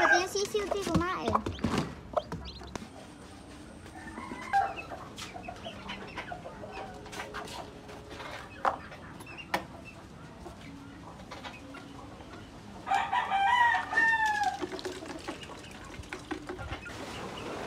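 Chickens and chicks on a farm: clucking and small chirping calls, close and intermittent, with one louder burst of calls near the end, mixed with rustling and brief talk.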